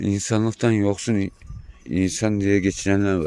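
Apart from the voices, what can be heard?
No everyday noises stand out.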